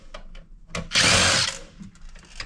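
A power drill drives out screws from a Dell 9020 computer power supply, giving one loud half-second whir between faint clicks and handling noises, close up.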